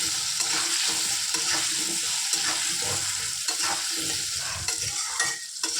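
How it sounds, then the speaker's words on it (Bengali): Diced potatoes salted and turmeric-coated frying in hot oil in a wok, a continuous loud sizzle with repeated scraping stir strokes throughout, no talking. "কড়াইটা গরম হয়ে গেছে তেল দিয়ে। এবার আলুগুলো ভেজে নেব।"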